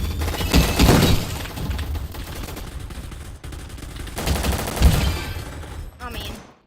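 Rapid bursts of automatic machine-gun fire and impacts from an arena shooter video game, loud and dense, swelling in two heavy volleys with short gaps between them.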